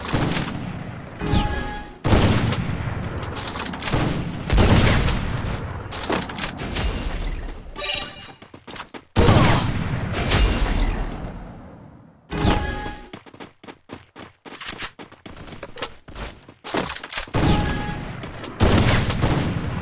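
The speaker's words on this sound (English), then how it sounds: "Guns!" Loud bursts of gunfire, clustered volleys and single cracks with brief gaps, with rapid trains of shots toward the end, heard close and with no talk over them.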